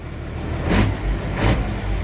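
A car engine idles and then revs twice as the accelerator is pressed, two short rising bursts close by against a low running hum, with no talking.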